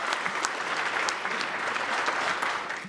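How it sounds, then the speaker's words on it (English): A room of guests at the Collision Industry Red Carpet Awards Breakfast at the 2018 SEMA Show applauds briskly, with close, crackling claps running evenly throughout without any voices. "How about a round of applause for Risa?"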